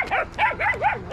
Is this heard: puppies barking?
yes